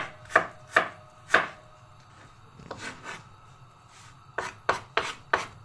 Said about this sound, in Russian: Тонкий-тонкий порежем лук.